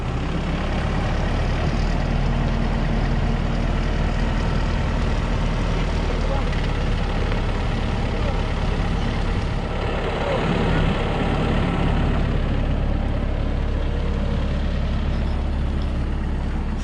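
A Manitou telehandler engine drives on a farm, producing a steady, loud, continuous diesel rumble that stays dense throughout, with no clear break or change in pitch.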